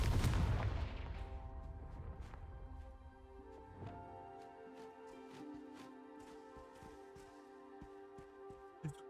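Confringo fire spell from Hogwarts Legacy erupting in a loud, booming blast that decays into a long ringing, magical tail, with a few sharp crackling hits scattered through the fading sound.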